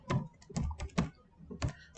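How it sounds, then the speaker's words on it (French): Keys on a computer keyboard are tapped in a few quick, irregular clusters, close and fairly quiet, with no talking. "on écrit avec le clavier"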